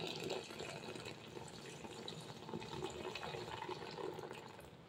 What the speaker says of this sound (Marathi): आता आपण याच्यामध्ये पाणी घालणार आहोत।